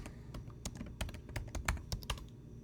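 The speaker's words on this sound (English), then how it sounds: "There's a chat box over here where I can type things" Rapid, irregular clicks of computer keys being typed at close range, quiet and steady, as text goes into a game's chat box, with no voices.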